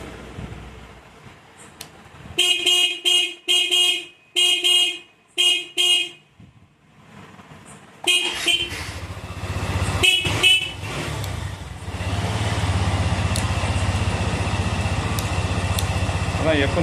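A two-wheeler's horn is tested in a workshop, giving several short, loud toots in an uneven rhythm close by, then a stretch of engine and motor noise with faint background activity.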